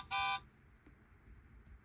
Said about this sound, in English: Blue drives by with a friendly beep.